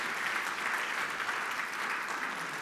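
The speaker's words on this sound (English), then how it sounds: "Can I get a hand clap for that?" An audience at an artist talk claps together in a dense, steady burst of applause that fills the room for a couple of seconds.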